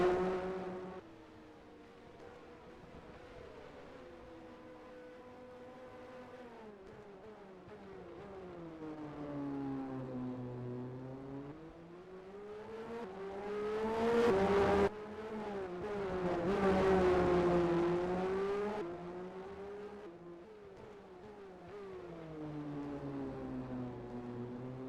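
Race cars lapping the Adelaide street circuit in a racing game, engine tones sweeping up and down as they accelerate and brake through bends, with a clear surge of passing cars midway.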